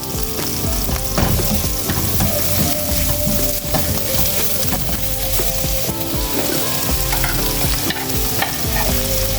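Chicken pieces fry and sizzle in a pan with golden-browned onion and garlic, with steady dense crackling and frequent scraping stirs throughout, close and loud, with no voices.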